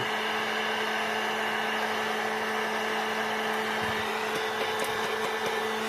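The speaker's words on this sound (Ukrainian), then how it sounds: "Взяли ми плату, включили фен вже трохи і починаємо водити, нагрівати плату." A steady electric whine of hot air blowing from a heat gun heating a circuit board, constant and close, with a few faint clicks near the end.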